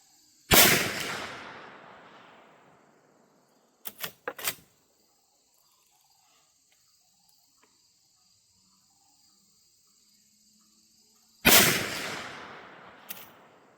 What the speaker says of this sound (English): bottom target. And we're doing a 5-shot group with each one.